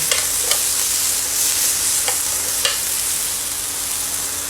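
Food stir-fried in hot oil, a loud continuous sizzle with scraping stirs and a few sharp spatter pops, close up and without talk.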